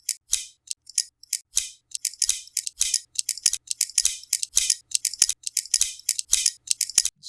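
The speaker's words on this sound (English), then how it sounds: "I love the sounds of this knife." A folding pocket knife handled up close, giving a steady series of crisp, bright mechanical clicks and snaps in an uneven rhythm, with no talking.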